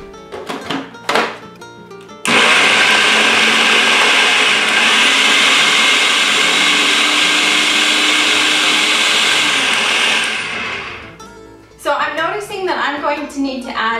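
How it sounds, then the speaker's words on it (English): A blender runs continuously for about eight seconds, blending vegan pesto with olive oil in a steady, loud whir. Brief kitchen clatter and talk come before it, and more talk follows once it stops. "So let's get to blending."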